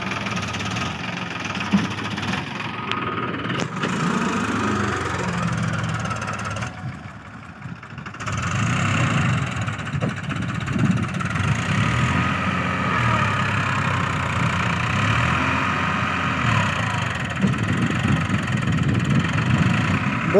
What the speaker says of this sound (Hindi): ये देखिए ट्रैक्टर फंस चुका है भाई यहाँ पे।